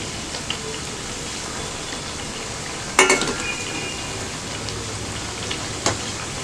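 Spinach tikka fries in a pan over a medium flame, giving a steady rain-like sizzle throughout, with a sharp clatter of a utensil or pan near the middle and a smaller knock toward the end.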